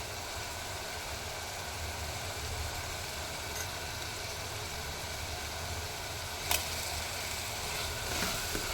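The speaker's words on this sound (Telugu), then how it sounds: "దీనిలో ఆయిల్లో బాగా ఫ్రై అవ్వాలన్నమాట" Ginger paste and turmeric frying in oil for a mutton and mango curry, giving a steady, soft, even sizzle throughout with one brief clink near the end, no speech.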